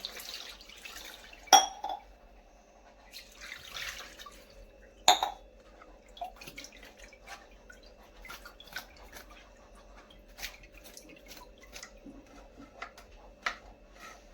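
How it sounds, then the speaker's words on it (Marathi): Cut and cleaned karli fish being washed in water, with soft sloshing, scattered drips and two sharp clinks of a bowl or vessel, fairly close and quiet. "आता ही मच्छी स्वच्छ दोन पाण्याने धुवून घेऊ"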